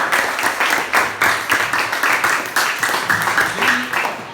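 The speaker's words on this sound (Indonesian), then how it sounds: "Tepuk tangan dulu untuk kita semua ya." Schoolchildren in a classroom clap together after finishing a project, rhythmic group clapping in a steady pulsing pattern, fairly close, with some voices mixed in.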